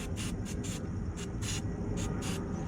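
Short hissing bursts of battery terminal protection spray on a 2003 Honda Civic LX battery, seven quick aerosol spurts in an uneven rhythm over low outdoor background noise.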